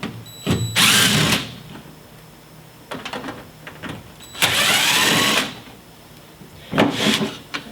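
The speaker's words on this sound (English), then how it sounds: "I'm going to remove these 2 screws." A power drill backing two screws out of the coin trap cover plate on an LG front-loading washer, two loud close whirring bursts of about a second each, separated by softer clicks and handling sounds.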